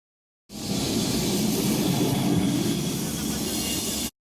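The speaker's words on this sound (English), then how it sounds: "The tram here in Lisbon" Lisbon's number 28 tram runs along its route with a steady, continuous rumbling and hissing roll, fairly loud and close, beginning and stopping abruptly, with no voices over it.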